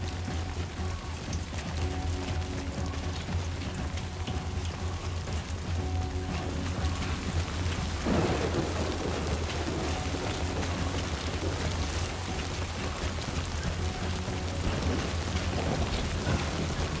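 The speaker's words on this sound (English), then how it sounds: "Oh my god, we've got a storm coming." Steady rain pours in a thunderstorm in the video game Death Stranding 2, with a low rumble of thunder rolling through the middle under the constant hiss.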